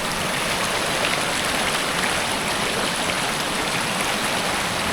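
A loud mountain stream rushes steadily along an off-road trail, a dense, continuous roar of water filling the clip close by with no voices.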